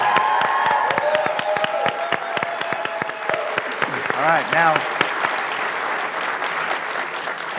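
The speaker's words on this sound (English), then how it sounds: "big round of applause for Peter, who gave it his all" A studio audience applauds a contestant leaving a sports-fan game show, the clapping loud and continuous while a host talks over it and briefly cheers.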